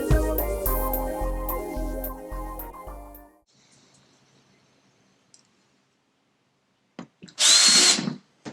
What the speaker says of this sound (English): Let's begin the drilling and we'll take it from there.